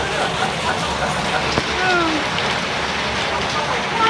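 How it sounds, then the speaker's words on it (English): Heavy hailstones pelting down against a window and gutter in a short shower, a dense steady hiss and patter at close range with no talking. "That is a lot of hailstones."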